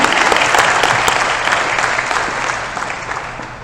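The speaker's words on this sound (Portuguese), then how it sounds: "uma salva de palmas" Loud, close audience applause at an academic conference session, dense clapping from many people that slowly tapers off.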